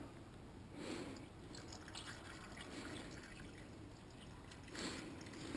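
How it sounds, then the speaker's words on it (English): Engine coolant gurgles and trickles steadily as it is poured into the radiator of a 2007 Kia Optima / Hyundai Sonata 2.4L four-cylinder, quiet and close, with a couple of louder glugs. "And pour the whole thing in."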